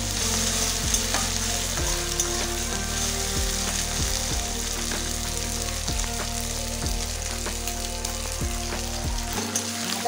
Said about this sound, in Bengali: এখন আদা রসুন বাটাটা দিয়ে এগুলো একটু ভেজে নেবো আর একটু।